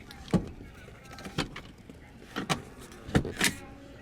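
Inside a 2018 Volkswagen Atlas 3.6 L V6, a lever releases the second-row seat with a series of short mechanical clunks and clicks, close and fairly quiet.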